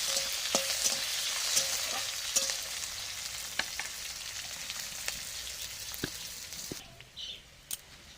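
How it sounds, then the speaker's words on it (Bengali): Chopped onions with bay leaves fry in hot oil in a village kitchen, giving a steady, close, bright sizzle with occasional sharp crackles and pops, and no talking. "দিয়ে ভালো করে পেঁয়াজটাকে ভাজা ভাজা করে নেব।"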